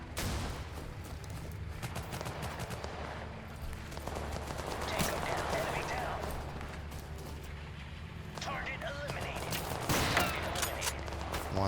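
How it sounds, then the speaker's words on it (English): Dense video-game battle soundscape from Total Conflict: Resistance, with Carcano rifle gunfire among constant crackling distant shots and rumbling background noise, continuous and moderately loud without speech. "Carcano rifle."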